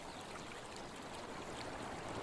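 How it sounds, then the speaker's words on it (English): Running water of a stream near a beaver pond makes a faint, steady, even rushing hiss that carries on unbroken. "The sound of running water triggers an obsessive desire to build."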